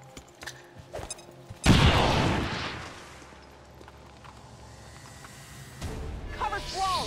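A grenade goes off in XCOM 2 with a sudden loud blast and a rumbling decay that fades over a few seconds, preceded by faint clicks and followed by someone talking.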